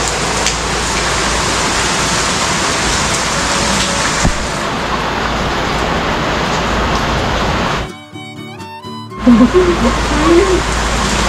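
Heavy rain pours down steadily in a Konkan village at Vervali, Lanja, Ratnagiri, a loud dense roar that cuts out abruptly for a moment of music before resuming.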